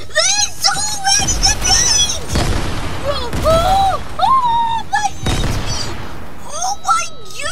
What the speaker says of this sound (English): there's a stick bomb grenade everywhere right now